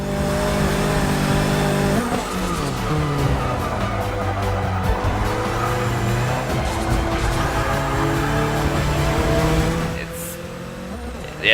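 A Lotus 05 racing car engine screams loudly and continuously, its pitch climbing through gear changes as it accelerates, then dropping off near the end.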